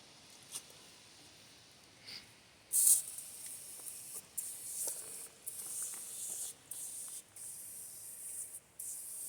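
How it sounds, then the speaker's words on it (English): Super Clean degreaser sprayed onto Ford engine parts for a 1980 Fox body Thunderbird, a run of short close hissing spray bursts with brief pauses between them, one stronger burst near the start, quiet shop background. "then I'll spray some more to super clean on it."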